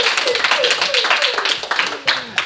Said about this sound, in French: Maxime, Zied, Sefdin, Clovis, Maël, on peut les applaudir.